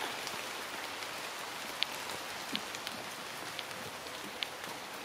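Rain falling outdoors, a soft steady patter and hiss with occasional sharper individual drops, faint and continuous without speech.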